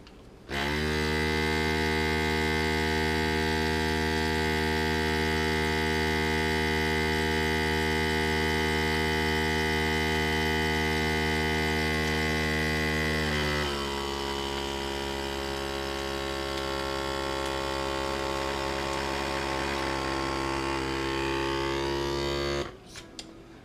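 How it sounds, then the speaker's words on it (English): A FoodSaver handheld vacuum pump seals a food bag with a loud, continuous motor drone. The pitch drops partway through, and the drone runs for about twenty seconds before cutting off abruptly. "Use your little hand pump."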